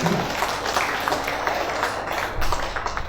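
An audience claps in a dense, sustained round of applause at a regent and deputy regent handover ceremony in Nganjuk, with no voices over it.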